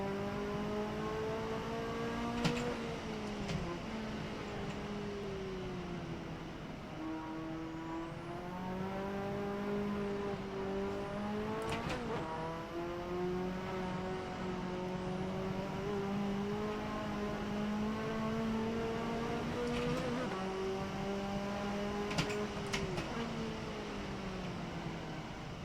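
Engine of an old car in the racing game Assetto Corsa, a steady droning tone that climbs through the revs and drops back at each gear shift, repeating several times at a moderate, even level with no talking.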